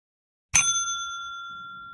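A bell rung once in a homemade Unreal Engine 5.6 game, a single bright metallic ding struck close and loud that rings on with a long sustained decay.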